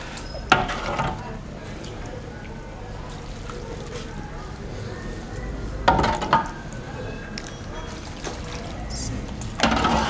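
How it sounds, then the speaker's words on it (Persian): Meat broth is poured into Uzbek-style pulao rice in a pot, giving a continuous liquid pour and trickle with occasional clanks and bursts of louder splashing, close up against steady cooking noise. "پس بفرمایید شما آب گوشت اضافه کنین."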